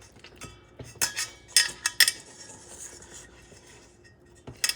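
Beef roast seasoning being mixed with a few drops of extra virgin olive oil, heard as bursts of clinking and scraping of a utensil against a bowl, close and fairly quiet, settling into softer rubbing.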